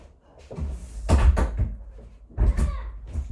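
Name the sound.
door being closed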